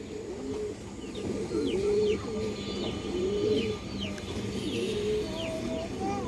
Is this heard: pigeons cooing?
yes